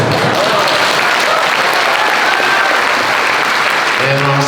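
Dense, sustained audience applause fills a large hall during an Islamic lecture at the Islamic Center in Nusa Tenggara Barat, loud and continuous throughout, with a voice briefly emerging at the end.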